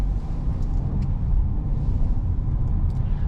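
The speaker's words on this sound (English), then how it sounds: "let's put it to drive, release the electronic parking brake, and off we go." A 2024 Peugeot 2008 facelift with the PureTech 130 petrol engine pulls away, heard from inside the cabin as a low, steady rumble of engine and road noise with no talking.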